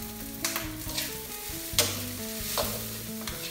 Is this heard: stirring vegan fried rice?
yes